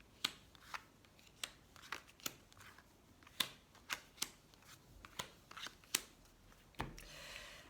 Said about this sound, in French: On va faire un tirage en 9 cartes.